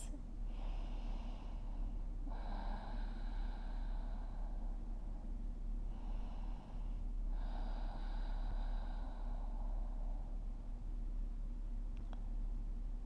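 Slow, deep breaths during a stretching routine: two long inhale-exhale cycles, close and soft, each breath a drawn-out airy rush over a low steady background hum.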